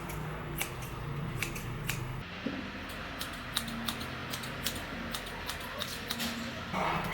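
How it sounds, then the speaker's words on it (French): Scissors snip through hair strand by strand, giving a steady run of crisp, close cuts over quiet room noise. "Je vais essayer de faire mèche par mèche et couper un petit peu."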